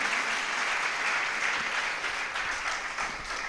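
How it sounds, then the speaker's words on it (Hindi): A religious discourse gathering audience bursts into hearty applause to welcome guests, a steady, dense wall of clapping that holds evenly for a few seconds before easing slightly, with no speech over it. "तो एक बार जोरदार ताली बजा के इनका स्वागत करें।"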